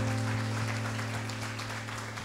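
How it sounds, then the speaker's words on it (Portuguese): Applause from a church congregation, dense clapping over a steady sustained organ or keyboard hum, fairly loud and continuous throughout. "aplauda o Senhor"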